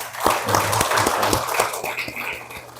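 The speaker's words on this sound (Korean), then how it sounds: "우리 격려의 박수 함께 하겠습니다" A church congregation claps together in a steady rhythm at a Sunday worship service, the applause moderately loud and close, with a voice speaking faintly beneath it.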